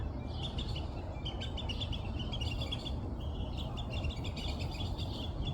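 Several garden birds chirp and tweet repeatedly in bright bursts over a low background rumble, with the calls continuing throughout at moderate distance.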